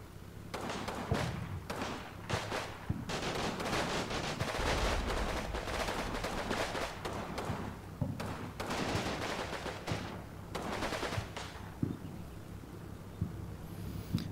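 Dense war video game battle with repeated gunfire and area fire, rapid bursts and heavy thuds layered almost continuously over a low rumbling bed, loud and busy throughout.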